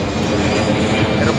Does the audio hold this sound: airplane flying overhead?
yes